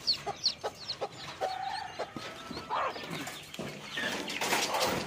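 A hen with her chicks in a partition of a desi poultry farm, giving repeated close clucks and soft chick peeps in irregular bursts over a busy farmyard background.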